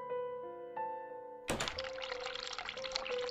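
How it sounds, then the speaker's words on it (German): A hot water tap in The Cat Lady is turned on with a clunk, then water gushes steadily and close, following a brief tonal musical passage. "Was passiert, wenn ich bei mir auch heißes Wasser anmache?"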